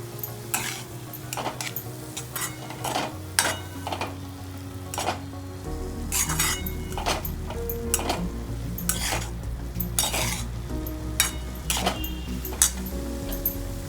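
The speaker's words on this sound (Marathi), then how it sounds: "आणि मिरी पावडर हे सगळं 2 मिनिटं परतून घ्यायचं।" A spoon scrapes and clatters repeatedly in a pan as an onion-and-spice mixture with chili flakes and pepper powder sautés for bread pizza, with a steady sizzle underneath and no voices.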